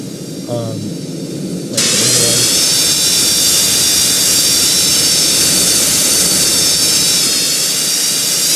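A jet airliner engine in the Roblox game Project Flight spools up into a loud, steady high-pitched whine and roar that holds for several seconds during a turn, following a brief quieter hum.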